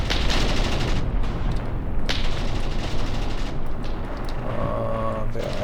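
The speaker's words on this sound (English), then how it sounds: "You can see the impacts. Light field howitzers are engaging." Light field howitzer shells land in the Graviteam Tactics war game as a dense, continuous rumble of blasts, with sharper bursts standing out now and then and no break in the loud barrage.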